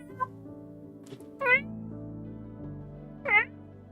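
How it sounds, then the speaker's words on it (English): A cat meowing outside a room, two short distinct meows heard a couple of seconds apart, moderately faint and muffled, over a quiet background with a low steady hum and a brief sound near the start. "I have a cat outside my room, won't stop meowing."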